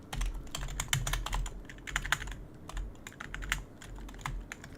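Rapid, uneven keyboard typing clatters close by during a Minecraft session, with dense bursts of key clicks and short pauses and no voices.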